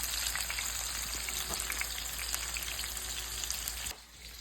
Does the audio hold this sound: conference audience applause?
no